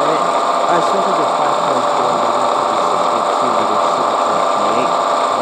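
A 5.4 liter Hemi car engine in the racing game Pixel Car Racer drones at a steady, loud pitch throughout, a buzzy mechanical tone with no pauses.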